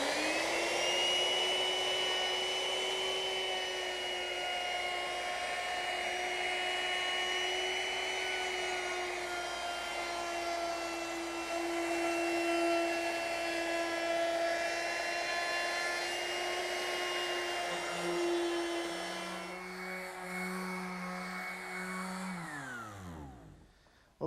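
A loud, steady high-pitched whine from a power router rounding over the wooden edges of rocking horse side pieces, running continuously and then winding down at the end.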